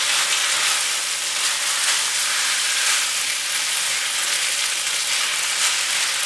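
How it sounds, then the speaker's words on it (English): Pad thai noodles with broccoli sizzle in a pan on a propane stovetop, a loud, dense, steady frying hiss close up with no pauses and no voices. "You hear that sizzling?"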